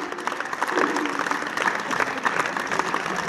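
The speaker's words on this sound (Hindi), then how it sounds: "इनके लिए भी एक बार जोरदार ताली।" At a school's annual sports day, the gathered audience gives a round of applause for a guest, with bursts of uneven clapping that swell and ease over a few seconds at moderate volume.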